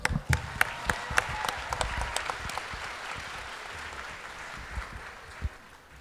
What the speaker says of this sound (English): The best claps you have to give is for Meenakshi.